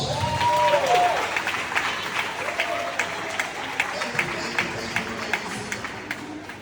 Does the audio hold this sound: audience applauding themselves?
yes